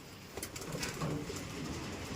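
Caged pigeons cooing softly, a few low, muffled coos rising over quiet background rustle within a couple of seconds.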